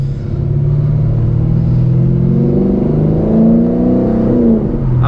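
A straight-piped 5.0L Lexus V8 car, running with a misfire, accelerates on a mountain road, its loud, close exhaust rumble rising steadily in pitch as the revs climb before easing near the end, with no talking.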